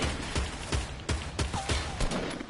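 Shotgun blasts in a first-person shooter video game, about eight sharp booming shots fired in a steady, evenly spaced rhythm, loud and close with no talking.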